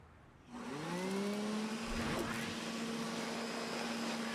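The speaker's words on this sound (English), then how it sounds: "could you please turn off the vacuum cleaner?" A household vacuum cleaner starts up and runs with a loud, steady whirring drone and a rising motor whine, continuing alone and evenly at close range.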